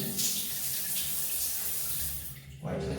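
Running water pours steadily in a shower for a live cold-shower session, a dense continuous hiss that dips briefly near the end before resuming.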